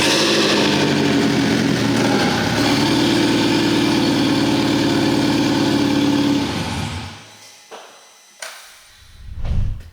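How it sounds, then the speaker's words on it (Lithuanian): A freshly rebuilt BMW E87 engine runs loud and close at a steady idle on its first start, then cuts off, leaving a few faint knocks and rustles. "prasisukom variklį, kad užsipumpuotų tepalas ir tada sekė pirmas užvedimas"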